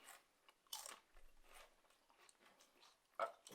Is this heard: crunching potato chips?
yes